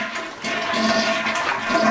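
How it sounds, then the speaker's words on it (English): A toilet flushes nearby, a steady rushing of water that swells and holds for the whole moment, with no talking over it. "you want to flush the toilet."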